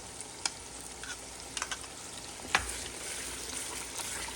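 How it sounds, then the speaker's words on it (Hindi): Masala mixed with yogurt frying in a pan for egg kofta curry, a quiet continuous sizzle broken by a few light clicks and one sharper knock of a spoon. "इसे भी हम अच्छी तरह से भून लेंगे 4 से 5 मिनट के लिए"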